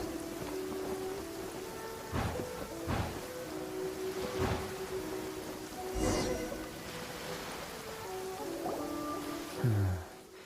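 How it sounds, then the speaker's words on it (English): Steady rain pours across a video game quest scene, a dense continuous hiss with scattered louder splashes and thuds, with soft tonal game music underneath. "Marching in the rain conceals the sound of our arrival."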